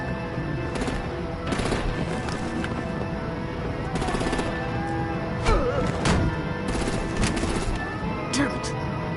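Artillery and gunfire in the Batman: The Enemy Within video game, with rapid bursts of shots and sharp blasts over a dense, loud action soundtrack, continuing throughout.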